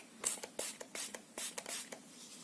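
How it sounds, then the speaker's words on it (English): A handheld spray bottle mists water over freshly crocheted fabric for blocking, several short hissing spritzes in quick irregular succession, close and moderately soft, with no talk. "you can take water in a spray can and just spray over it"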